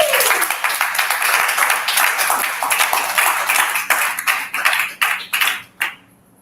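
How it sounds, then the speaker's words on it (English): An audience at a live community event clapping, dense rapid handclaps that thin into scattered claps and stop near the end, fairly loud and close. "Clap it up for yourselves, guys."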